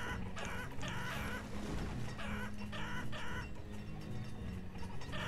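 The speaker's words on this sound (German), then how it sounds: "Werden gerade das Hühner geschlachtet hier oder was geht?" Chickens cluck and squawk in a busy, overlapping chorus while being slaughtered in the Banished video game, agitated calls coming in bursts over a constant farmyard bed, moderately loud and without speech.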